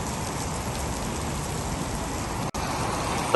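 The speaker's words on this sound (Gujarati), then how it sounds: "એટલો વરસાદ ચાલુ થઈ ગયો" Heavy rain pours steadily in Gujarat as a broad, constant hiss of water on surfaces, with a possible car passing and a brief dropout near the end; no one speaks.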